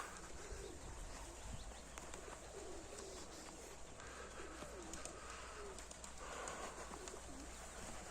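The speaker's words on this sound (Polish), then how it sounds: "Dopiero Tadek wypuścił gołębie." Pigeons released from a coop coo softly in a steady outdoor spring background, with occasional flapping of wings and faint chirps from other birds.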